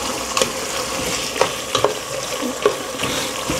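Liver sizzles as it is sautéed in a pan for batchoy, with a constant frying hiss close by and sharp spatula scrapes landing every half second or so.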